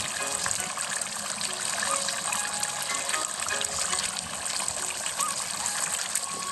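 Water poured into a pot of Bengali-style dahi chicken, a continuous broad rushing and trickling stream that holds steady and close for several seconds with no breaks.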